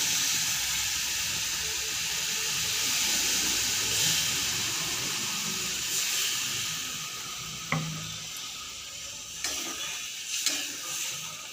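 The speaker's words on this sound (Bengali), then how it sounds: "এবারে জল দিয়ে দেবো পরিমাণ মতো জল দিয়ে দেবো যাতে আলুটা সেদ্ধ হয়" Water poured into spice paste frying in a pan with potatoes for soybean curry brings a steady loud hiss and sizzle, with a few sharp clinks of stirring late on and no talking.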